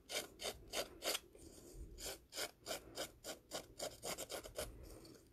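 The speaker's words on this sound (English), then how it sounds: "So just roughing up around those edges." Scissor blades rasp repeatedly along paper edges, roughing them up in quick, rhythmic scraping strokes heard close and alone, with short pauses between bursts.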